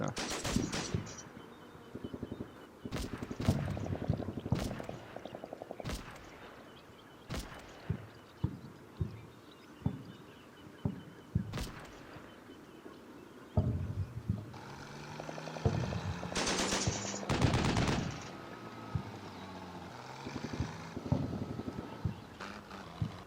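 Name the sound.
half-track machine gun firing in video game Combat Mission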